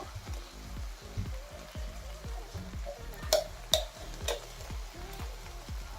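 Masala for bamboo shoot curry fries in a pan, a soft steady sizzle under a regular rhythm of stirring scrapes, close and quiet, with a few sharper clacks of the spoon against the pan.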